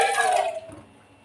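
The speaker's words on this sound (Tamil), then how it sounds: "இது இன்னும் கொஞ்சம் தண்ணி ஊற்றிக்கிடலாம்." Water is poured into sambar cooking in a pot, a short rushing splash for about half a second that quickly fades into quiet.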